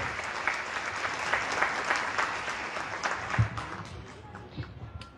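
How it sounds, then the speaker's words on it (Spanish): Audience applause welcoming a speaker at a book presentation, sustained even clapping from a full room, with a few voices and a thump beneath it as it slowly fades. "Fuertes los aplausos para recibir a la abogada Gladys Fischer."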